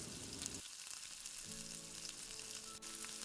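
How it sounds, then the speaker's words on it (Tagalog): Eggplant fries in hot cooking oil with a steady, continuous sizzle, fairly quiet and close, with no talking. "Saka po natin i-fry ang ating eggplant."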